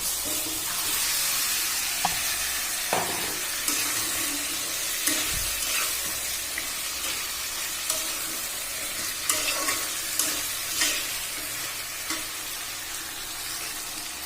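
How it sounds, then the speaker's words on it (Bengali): Chicken pieces frying in a pan of cooked-down spice paste, a close, steady sizzle with intermittent scraping and stirring knocks of a spoon against the pan. "মশলা কষানো হয়ে গেছে আমি মুরগির মাংসটা দিয়ে দিচ্ছি"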